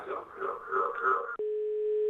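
Telephone dial tone after a caller hangs up during a live TV call-in show; a brief garbled voice on the line cuts off abruptly, followed by a steady, clear continuous tone.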